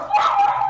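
A single short, high-pitched dog bark or yip, close and fairly loud, lasting under a second with no talking.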